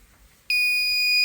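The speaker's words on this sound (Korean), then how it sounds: "부저가 울었습니다." A cold storage temperature alarm device sounds its buzzer: after half a second of quiet, a loud, steady electronic tone starts abruptly and holds unbroken to the end.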